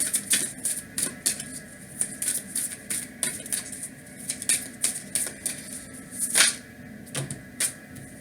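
Rapid rhythmic riffling and light clicking of a deck of tarot cards being shuffled close up, in repeated quick bursts throughout with no voices.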